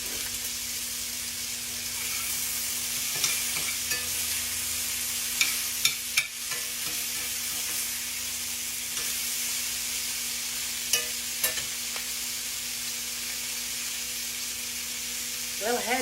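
A steady sizzle of pork loin frying in a pan, with a few clinks of utensils and occasional stirring, fairly close and continuous.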